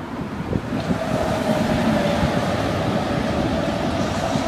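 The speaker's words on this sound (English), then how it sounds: "Coincidentally, freight train." A freight train rumbles past close by in Haarlem, Netherlands, a continuous low roar with rattling and a faint high squeal, steady throughout.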